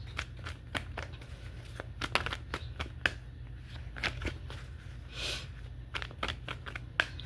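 Tarot cards are shuffled by hand, a run of soft riffling and crisp flicking snaps close by over a low steady hum, with a few sharper slaps as cards spill out.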